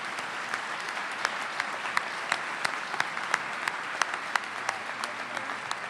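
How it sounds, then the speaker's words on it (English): An audience at an awards ceremony applauds steadily, many hands clapping together with a few sharper claps standing out, sustained throughout. "Let's give all of them a round of applause."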